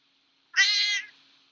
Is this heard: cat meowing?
yes